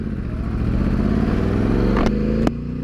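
A Yamaha R1 sport motorcycle engine drones steadily at close range with a dense, buzzing harmonic tone, rising slightly in pitch, punctuated by two sharp clicks or clatters near the end.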